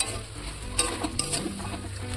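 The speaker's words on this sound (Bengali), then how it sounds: "এর মধ্যে ভেজে রাখা চিংড়ি মাছগুলো দিয়ে দেবো" Fried prawns added to a pan of cooked-down potato and pointed gourd and stirred, a low steady sizzle with a few sharp clicks and scrapes of the spoon.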